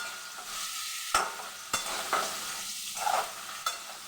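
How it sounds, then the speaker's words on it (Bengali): Pointed gourd and tomato frying in a pan while being stirred, with a steady sizzle broken by several sharp scrapes and knocks of the spoon against the pan. "টমেটো দিয়ে পটল দিয়ে রান্না করছি"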